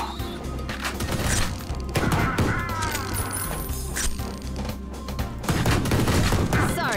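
Rapid gunfire from a weapon in the video game Ion Fury, dense bursts of shots layered over game music and effects, loud and near, with a brief lull in the middle before the firing picks up again.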